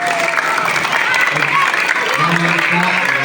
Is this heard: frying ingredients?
no